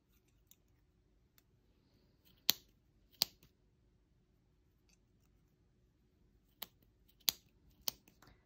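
Scissors cut through yarn in about six crisp, isolated snips spaced a second or so apart, close and clear against near silence.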